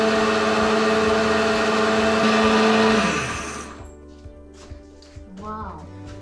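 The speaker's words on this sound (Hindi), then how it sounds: "अब हम इसको ग्राइंड कर लेंगे।" A mixer grinder grinding peanut chutney with water roars loudly for about three seconds, then winds down and stops, leaving faint clinks and rattles afterward.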